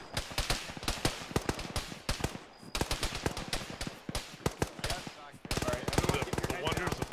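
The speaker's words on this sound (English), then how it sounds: "Stationary anti-air gun." Stationary anti-air gun firing in an Arma combat game, long rapid bursts of heavy automatic fire with brief pauses between volleys, loud and close.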